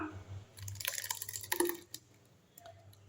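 Thick coconut chutney slides from a grinder jar into a bowl with soft wet drips and splats, a scraping clatter in the middle, then faint trickling.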